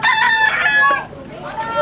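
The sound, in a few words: rooster crowing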